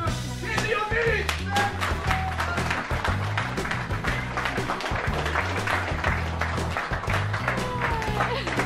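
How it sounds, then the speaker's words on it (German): An audience at a viewer meetup in Duisburg claps and cheers loudly and close by, with music and voices mixed in throughout. "Also das heißt, kräftigen Applaus"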